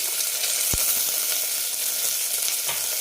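Shallots, garlic, ginger and curry leaves sautéing in a pan for a green gram curry, a loud continuous sizzle with a brief knock of a utensil early on.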